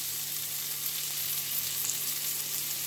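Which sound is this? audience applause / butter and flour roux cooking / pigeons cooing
butter and flour roux cooking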